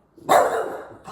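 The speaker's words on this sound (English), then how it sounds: "Oh no, he's barking." A single loud, close dog bark aimed at a television indoors, sharp and brief, followed by a short softer sound as it trails off.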